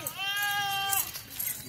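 A goat at a goat farm lets out one clear, wavering bleat lasting most of a second, close and fairly loud, followed by faint rustling and farm background noise.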